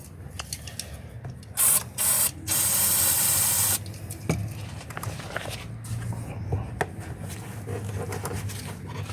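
Short bursts of an aerosol can spraying combustible into the intake tube of a Hyundai i30 engine that cranks but won't start: two brief hisses, then one longer spray, with faint clicks and handling noise around them.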